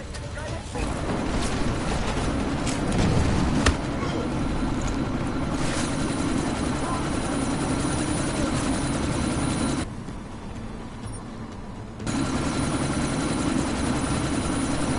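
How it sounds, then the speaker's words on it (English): A helicopter in a PS4 video game flies through a sandstorm, its steady rotor drone continuous and loud throughout, with game voices and radio chatter over it and a brief dip in the middle. "you need to disable that chopper"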